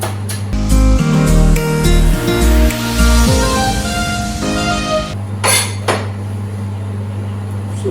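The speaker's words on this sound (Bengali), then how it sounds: "এখন আমি ধনে পাতা চপ করছি" A knife chopping coriander leaves on a board while making bandura gupta, quick rhythmic thuds up close over a loud steady hum, then a few scattered knocks.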